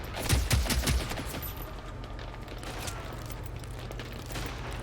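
Experimental PVG weapon in Generation Zero firing a quick burst of sharp shots at the start, followed by a lingering low rumble and echoing tail.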